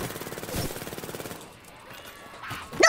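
Rapid automatic gunfire in the shooter game Call of Duty Black Ops III during a zombies wave, a fast even burst of shots for over a second, then quieter game noise and a sharp shot at the end.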